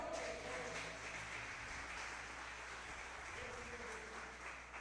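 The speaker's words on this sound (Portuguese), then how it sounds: "Você pode aplaudir o Senhor?" A church congregation applauding during a deliverance service, a steady dense wash of clapping from a crowd, moderately distant, with faint voices mixed in.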